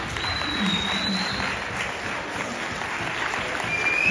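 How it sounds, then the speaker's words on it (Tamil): Audience applause at a Pongal cultural program honoring a teacher and children, a steady dense wash of clapping that continues throughout with murmuring voices mixed in. "நான் ஒரு பெரிய கைதட்டு கொடுத்துடலாமா?"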